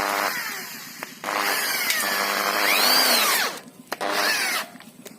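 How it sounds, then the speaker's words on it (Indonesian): An electric drill whines in loud bursts, its pitch rising and falling as it bores into thin lightweight steel for a frame, with brief pauses between runs. "Kita bor dulu ya, kasih tanda."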